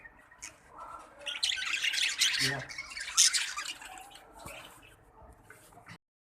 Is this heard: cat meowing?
no